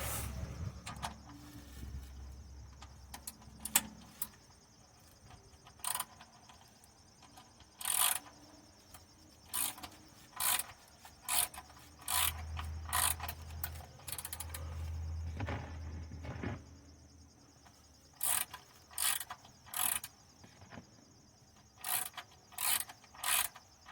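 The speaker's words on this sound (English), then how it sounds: "I'm gonna get a ratchet. It's gonna make it pretty quick." A hand ratchet loosens an engine oil drain plug, giving repeated bursts of sharp clicking, close and clear, spaced irregularly across the clip, with some low handling noise in between.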